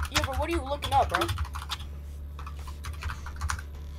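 Typing on a computer keyboard, a run of scattered close clicks and taps following a short burst of speech at the start, the keystrokes then continuing alone and fairly quiet.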